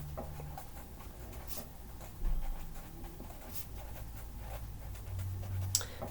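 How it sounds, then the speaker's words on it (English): Writing on a board during a lesson, with faint, intermittent scratchy strokes and light taps over a quiet room. "So I'll write that down."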